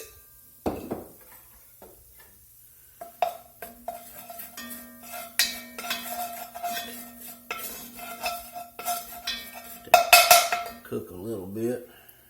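A flour and oil roux being stirred in a pot for a steak chili, with a utensil clanking and scraping against the metal in irregular bursts that get louder toward the end, close by and without talking.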